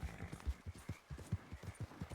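Hooves of a white Albion horse in Red Dead Redemption 2 clip-clopping at a steady walking rhythm, about a dozen soft, muffled thuds in even succession at moderate volume.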